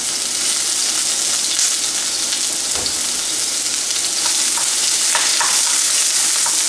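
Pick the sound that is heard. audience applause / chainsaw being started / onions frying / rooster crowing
onions frying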